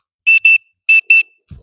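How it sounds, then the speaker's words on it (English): A dog-training recall whistle blows two double pips, each pair of short shrill high blasts loud and close, separated by a brief pause, with a faint low thump at the end. "And she responded to the whistle"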